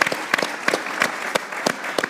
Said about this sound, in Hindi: मैं एक जोरदार तालियां अपनी ऑडियंस को दूंगा।